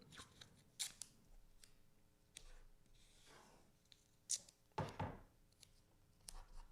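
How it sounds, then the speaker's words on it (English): Paper being taped down to a drawing board during a figure gesture drawing session: scattered close crinkles, sharp tape rips and clicks with soft handling noise between them, no voices. "I'm just taping the paper down, so bear with me as I do this."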